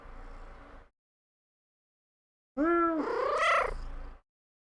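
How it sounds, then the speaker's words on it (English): A single drawn-out meow, close and clear, rising then falling, preceded by a short low murmur and surrounded by silence. "Meow in the mic."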